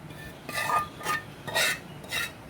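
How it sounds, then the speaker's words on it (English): A spoon stirs cooled oil through mango and black chickpea pickle in four soft scraping and squelching strokes. The strokes are close by and quiet, with a little clinking of the utensil against the bowl. "now let's mix this with the mango and chana to complete the pickle procedure"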